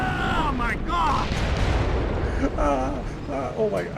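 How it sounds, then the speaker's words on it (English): Deep, rumbling helicopter explosion booms and crackling fire from the video game Tom Clancy's Splinter Cell roll on under excited talking voices. "I like how you're supposed to hear all of this over a helicopter explosion."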